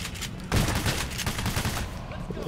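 Gunfire in the heist shooter Payday: The Heist, a dense burst of rapid shots starting after a quiet half second and continuing steadily, with players talking over it.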